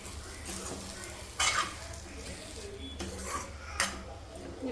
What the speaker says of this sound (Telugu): కొద్దిగా అట్లా ఎగ్స్ వేసుకున్నాక కలియబెట్టాలి.